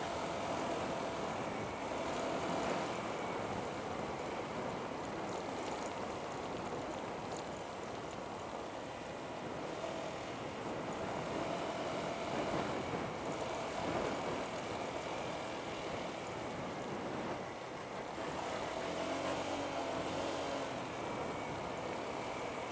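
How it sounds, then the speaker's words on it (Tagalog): Waves wash on a seashore at Dingalan in a continuous broad rush of surf with gentle swells. It stays fairly steady in loudness throughout and carries no speech. "Wow, yun yung dagat. Ang lapit."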